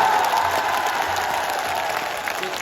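A large crowd at an outdoor election rally applauds, dense steady clapping and cheering heard from a distance, continuous and fairly even in loudness.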